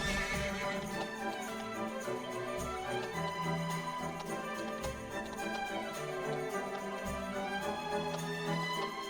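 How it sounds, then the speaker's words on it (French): Horse in the Dragon Quest XI S video game neighing and galloping over orchestral game music, with hoofbeats and whinnies repeating steadily for several seconds. "Ça, c'est du cheval, ça."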